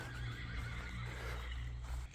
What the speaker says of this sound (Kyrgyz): Гүлүк жылкы экен.